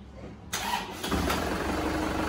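An Isuzu Panther diesel engine, just serviced at the injection nozzles and pump, cranks and fires up close and loud, then settles into a steady, even rumbling idle.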